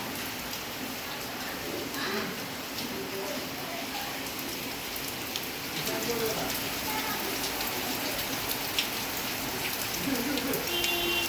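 Heavy rain pours down on a hot summer day in Orissa, a dense, constant hiss of drops on surfaces throughout, with faint voices in the background.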